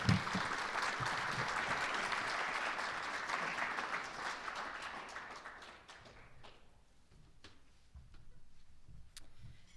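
Steady audience applause for a university trustee at a professional landmen's conference, a sustained wash of clapping for about six seconds that thins into scattered individual claps near the end.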